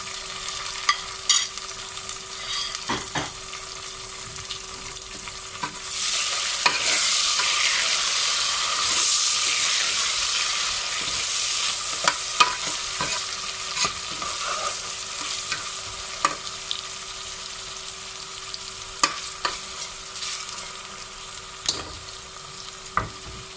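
Tomatoes and green chillies frying in a pan for aloo matar pulao, a steady bright sizzle and hiss that swells into loud steamy frying, with scattered stirring clinks and scrapes throughout, close and without voices.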